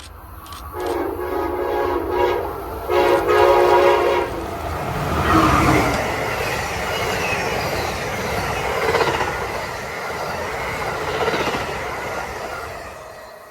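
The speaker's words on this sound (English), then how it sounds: "Next up was Amtrak train number 98, the northbound Silver Meteor on its way from Miami, Florida to New York's Penn Station, with Amtrak ACS 64 number 621" Amtrak's northbound Silver Meteor passes in central New Jersey behind an ACS-64 electric locomotive, sounding a loud horn blast twice before the cars roar and rumble by close at high speed, with wheel hiss fading at the end.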